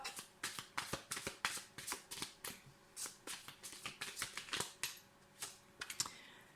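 A deck of tarot cards shuffled and drawn by hand produces a rapid series of crisp, close riffling and snapping bursts in an uneven rhythm, fairly quiet overall.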